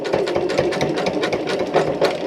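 A sewing machine stitches along the side of a fabric curtain panel, running in a steady, continuous mechanical whir with a fast needle rhythm, close and fairly loud, with no talking.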